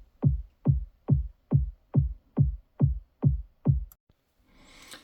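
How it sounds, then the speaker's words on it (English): Nine punchy, short stabby EDM kick drum hits for trance music in a steady even rhythm, each a tight thump with a quick decay, followed by a brief pause and faint noise. "for the kick, I just went for an EDM kick, sort of a short stabby kick."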